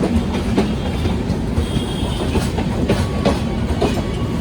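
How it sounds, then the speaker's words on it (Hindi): A Jaynagar–Danapur Express train rolling into Samastipur station, with continuous loud rumble and rhythmic clickety-clack of wheels over rail joints, close by and unbroken throughout. "जयनगर दानापुर एक्सप्रेस। समस्तीपुर अराइविंग करती हुई।"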